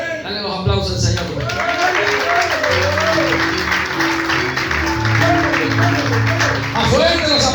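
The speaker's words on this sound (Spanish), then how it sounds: "Dale los aplausos al Señor." A church congregation applauds at a Spanish-language worship service, steady clapping filling the room alongside a preacher's voice and what sounds like music throughout.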